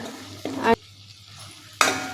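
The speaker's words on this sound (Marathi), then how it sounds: "जर पाणी ओतून आपण जर मसाले परतले ना तर मसाले अजिबात करपत नाहीत" Ground masala paste is sautéed with water in a pan. Two short, loud bursts of sizzling and stirring are split by a quiet gap, close up.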